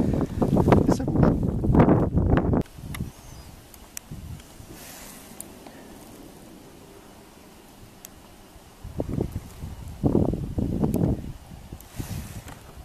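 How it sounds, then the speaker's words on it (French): Wind gusting over a small Klepper folding sailboat on water with tiny waves, buffeting the microphone in rough bursts at the start and again near the end, with a quieter stretch of soft rustle and lapping between. "il y a du vent, ça bouge, il y a des vagues, elles sont toutes petites"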